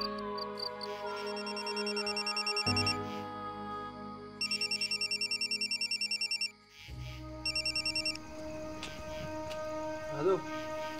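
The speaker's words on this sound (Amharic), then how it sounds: "ስልኩ እየጠራ ነው።" A phone rings in repeated electronic bursts, two long trilling sequences separated by pauses, with a low hum underneath and a brief voice near the end.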